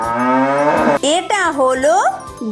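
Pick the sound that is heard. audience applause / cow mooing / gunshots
cow mooing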